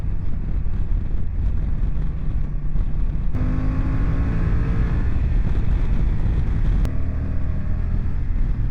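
A Honda NT1100 motorcycle with DCT accelerates under heavy wind rush, its engine note climbing and then dropping abruptly at shifts, two clear gear changes audible.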